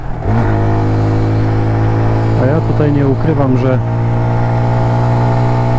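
A 125 cc motorcycle engine on a mountain road tour of Poland, droning steadily at close range and rising and falling with the throttle through curves, while the rider talks over it.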